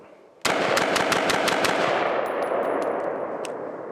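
Rifle fire at a hunting camp: a close, loud burst of about nine rapid shots in steady rhythm, followed by scattered metallic pings and a lingering ring that fades out.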